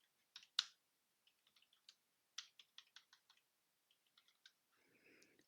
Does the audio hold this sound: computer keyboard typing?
yes